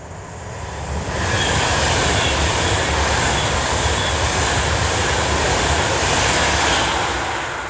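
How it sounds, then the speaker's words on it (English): A train passes through Sheldon Country Park, rising within the first second to a loud, steady broadband rumble and rush that holds unbroken to the end. "Train."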